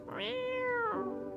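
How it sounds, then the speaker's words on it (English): A cat in a video game gives a single clear, drawn-out meow that rises and then falls, close and alone. "You decide to pet the cat."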